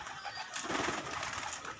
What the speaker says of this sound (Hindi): ये जो गुटक रहा है ये नर है